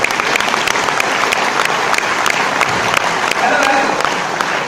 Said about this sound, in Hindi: पहले उसके लिए तालियां बजाओ, फिर आपके लिए भी लोग तालियां बजाओ।